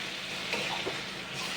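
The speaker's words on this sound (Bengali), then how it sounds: "হালকা করে ফ্রাই করে নেব, ভেজে নিচ্ছি।" Soft bottle gourd pieces frying lightly in a pan give a continuous, even hiss of oil, close and moderately loud, with no voices.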